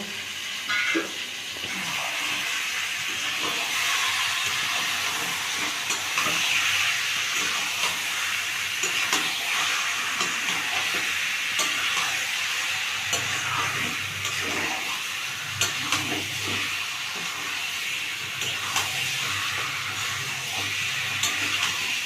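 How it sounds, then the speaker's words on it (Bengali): Mutton cooks without oil in a spice paste, stirred and sautéed with a steady loud hiss and sizzle that runs unbroken, with faint scraping underneath and no talk. "এবার যে মাংসটা ছিল আমি মাংসটা এর মধ্যে ঢেলে দিলাম, দিয়ে ভালো করে দেখুন আমি কষিয়ে নেব"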